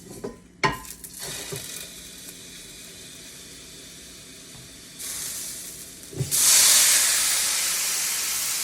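Sausages in a greasy frying pan burst into a loud, steady hiss and sizzle after a few clatters of the pan, the spitting grease rising sharply and holding close and strong to the end.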